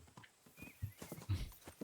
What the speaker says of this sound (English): Calling my horse.